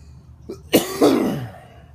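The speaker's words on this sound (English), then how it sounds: "now I'm coming in and coughing." A person with a brain tumor gives a short throat-clearing sound followed by one harsh, close cough that trails off, heard alone indoors.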